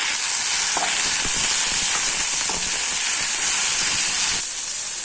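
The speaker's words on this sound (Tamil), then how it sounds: "ஒரு தக்காளி, இதையும் போட்டு நல்லா வதக்கிடலாம்" Tomato being sautéed in a pan for a broad bean kootu, a dense, steady sizzling hiss with a few soft stirring clicks, close and unbroken with no speech.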